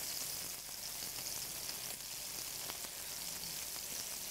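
Beef, spinach and mushroom patties fry in a hot pan with a steady, loud sizzle that runs unbroken, dense crackling spitting throughout with no voices.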